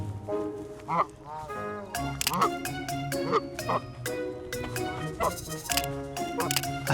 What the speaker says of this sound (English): There's Will, chasing birds, chasing birds.